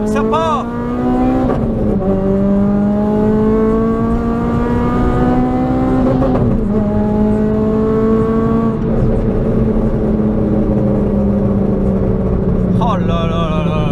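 A car engine revving hard as it pulls away, its pitch climbing through the gears in long rising pulls with brief dips at each shift, loud and close throughout.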